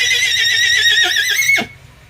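A young horse lets out a loud, close whinny with a wavering high pitch that drops sharply at the end, followed by quiet.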